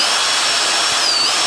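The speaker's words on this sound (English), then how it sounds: "I'm just going to drill a hole in somewhere right here, about an inch or two up" A power drill bores a hole in a DIY automatic poultry waterer, a steady, loud, high-pitched whine that runs unbroken and close up, with no talking.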